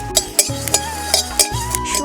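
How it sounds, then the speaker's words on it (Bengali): Whole fennel seeds dry-roasting in a pan, with a spatula stirring and scraping in regular strokes roughly every quarter second over a soft, steady background hum. "শুকনো খোলায় গোটা মৌরি ভেজে নেব।"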